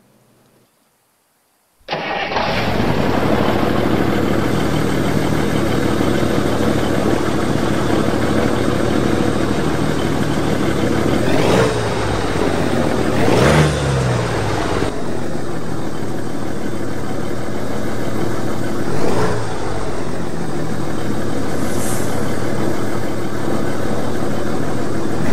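Mack F-700 cabover truck with a Cummins 555 diesel starting up in American Truck Simulator, the engine catching abruptly and then settling into a loud, steady idle, with a few small revs and clunks.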